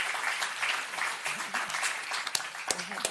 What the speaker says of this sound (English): let us applaud our panel.